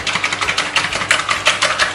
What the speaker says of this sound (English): I'm going to whisk the eggs at the side of the bowl to make sure they're nice and mixed up.